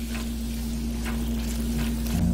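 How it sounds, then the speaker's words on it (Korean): Chili powder and anchovy fish sauce stir-fry in a pot for soft tofu stew, giving a steady close sizzle with a few faint stirring scrapes and a low background hum throughout, with no talking. "여기에 멸치액젓 1스푼을 넣고 약 30초 정도만 함께 볶아주세요."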